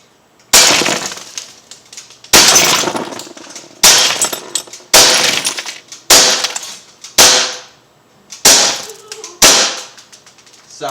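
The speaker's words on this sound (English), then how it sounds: "Wow, that just shattered totally." A glass target shatters under .177 caliber shots from an Umarex Beretta APX air pistol, eight sharp loud crashes of breaking glass spaced about a second apart, each trailing off in tinkling debris.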